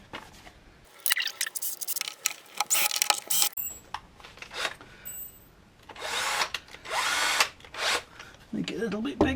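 A small power drill with a small bit whirs in several short bursts while drilling holes, separated by brief pauses and faint handling noises, close to the listener.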